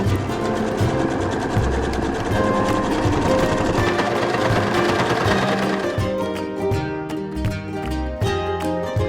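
Sewing machine stitching a dress onto its waistband, a steady, close, rapid mechanical chatter that runs continuously before shifting into a slightly slower, more distinct stitching rhythm near the end.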